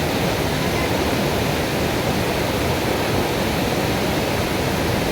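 A village waterfall roars with a dense, constant rush of falling water, loud and close, filling the whole stretch without any voices.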